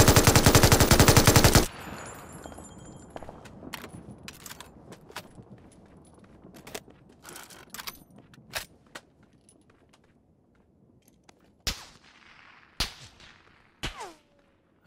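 Enemy gunfire in the battle royale game PUBG opens with a loud, dense burst, then settles into scattered single sharp shots that sound far away over quiet background noise.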